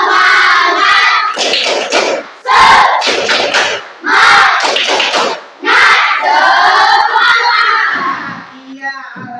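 A crowd of students performs a rhythmic clapping chant, loud and close, with bursts of shouted voices and rapid hand claps in several energetic phrases separated by brief pauses.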